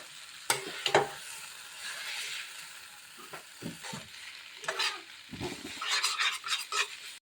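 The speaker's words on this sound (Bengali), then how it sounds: "আমি 3-4 মিনিটের মতো নুডলসটা ভেজে নেব" Noodles fry in a pan with a continuous close sizzle, punctuated by several clattering stirs and tosses that grow busier toward the end.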